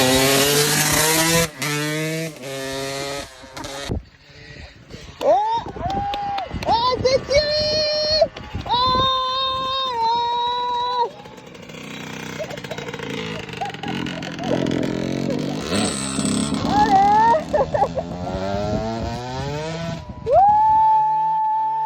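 A motorcycle pulled up onto its rear wheel during a riding course in a storm, its engine revving and whining loudly through several rising and falling pulls, with people talking and shouting over it.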